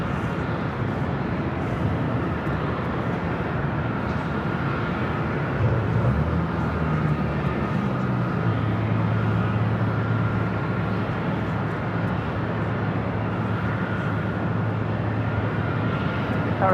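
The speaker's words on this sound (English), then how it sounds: "Southwest Airlines Flight 485 is 737-700. Next takeoff here on the north side at 24 left." A Southwest Airlines Boeing 737-700 takes off from runway 24 left on the north side of LAX, its jet engines producing a continuous powerful roar that swells slightly midway and holds steady.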